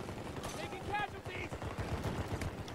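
Rapid gunfire from the video game Battlefield 2042, including MCS 880 shotgun blasts, crackles in dense bursts amid a noisy battlefield, with voices talking over the shots.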